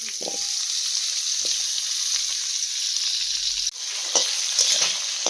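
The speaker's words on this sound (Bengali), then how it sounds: "এবার এখানে আলুগুলো ভাজতে দিয়ে দিল" Potatoes frying in hot oil in a pan where fish was fried before, a bright continuous sizzle with occasional clinks and stirring, growing a little louder near the end.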